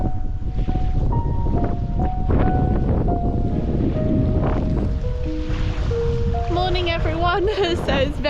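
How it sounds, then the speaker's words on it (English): Strong morning wind gusting at a forest campsite in Galloway Forest Park, a loud rushing buffet across the microphone with tonal whistles and brief chirps near the end. "So it's very windy this morning."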